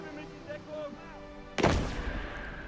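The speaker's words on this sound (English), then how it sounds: "I'm using my mortar to pepper the area that we're trying to capture over here." A mortar round fires in the World War II game Gates of Hell, one sharp heavy boom with a rumbling tail that follows a stretch of quieter in-game tones and a background voice.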